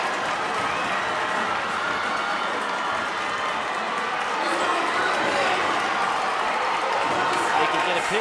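High school wrestling crowd at a match between the SKHS Wolves and the Yelm Tornados, roaring and cheering steadily in a gym, with a dense wash of voices and clapping.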